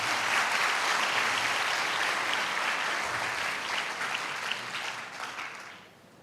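A university audience at a motivational poetry show bursts into strong, sustained applause, a thick roar of many hands that holds steady before fading out.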